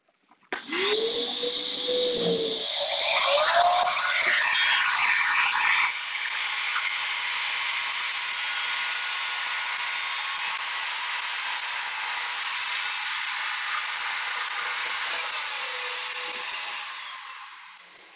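A Shopsmith jointer whines loudly as it takes a 1/16-inch rabbet pass along a wooden board, a steady motor drone with a harsher cutting rasp early on, then fading as the machine runs down.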